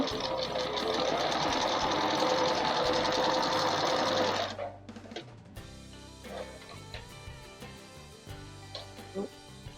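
A sewing machine runs fast and loud, stitching a seam with backstitching, then stops abruptly; afterward come quieter handling clicks and fabric rustles.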